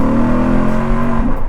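A Lexus RC F engine revs hard on a downshift, a loud close snarl with a rising blip and a pitch sweep near the end.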